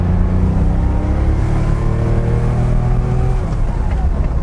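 A 1972 Porsche 911S Targa engine drones loud and close in a sustained rising rev, its tone climbing steadily toward the end with no talk over it.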